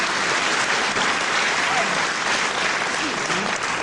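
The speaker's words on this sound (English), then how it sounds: "deserved applause from the packed crowd here at Westcliff-on-Sea" A packed crowd at a wrestling match in Westcliff-on-Sea gives sustained, dense applause, loud and continuous with no break, with a commentator speaking over it.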